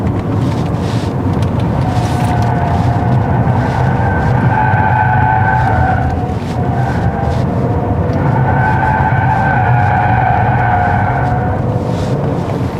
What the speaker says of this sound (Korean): 지금은 코너를 노멀 모드로 돌았고요